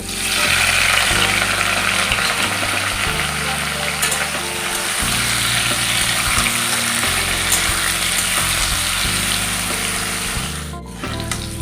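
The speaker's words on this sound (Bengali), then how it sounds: "এবারে এঁচড় আর আলু হালকা ভেজে নেব" Young jackfruit and potato pieces frying in hot oil in a Bengali kitchen, a loud continuous sizzle with occasional stirring scrapes throughout, briefly dipping near the end.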